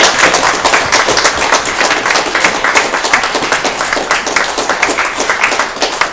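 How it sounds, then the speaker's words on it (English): A film festival audience at a post-screening Q&A gives loud, sustained applause, a thick crackle of many hands clapping without a break. "let's get a round of applause for that"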